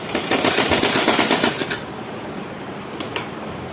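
A sewing machine stitches a blouse, a loud close rapid mechanical rattle running steadily for under two seconds, then stopping, followed by a couple of faint clicks.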